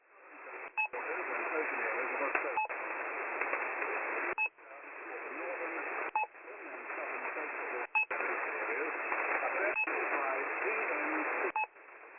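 Shortwave marker signal on 6230 kHz, a steady band-limited hiss or tone that runs continuously and is broken by a brief click or gap roughly every two seconds, loud and unaccompanied.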